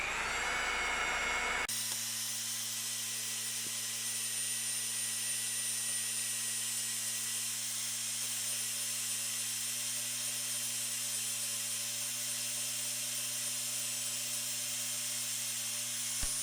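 A Portaband portable band saw runs on its own with a steady, continuous motor whine and blade hiss. It starts abruptly near the beginning and holds an even loud drone with a constant low hum to the end.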